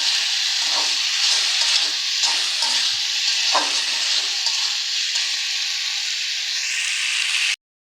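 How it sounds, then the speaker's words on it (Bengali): Tomatoes fry in a pan, giving a steady, loud, close sizzle with occasional scraping stirs. The sound cuts off abruptly near the end. "আমি এখানে যে টমেটোগুলো একবারে ভালোভাবে গলিয়ে নিব"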